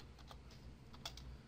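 Soft, quiet clicks of typing on a computer keyboard, a few scattered keystrokes over a steady low background hum, with no talking.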